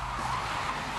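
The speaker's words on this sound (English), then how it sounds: "I think we're skidding a car right now." A car skidding on a London street during stunt filming for a police drama, a steady loud tyre squeal and road roar held throughout at close range.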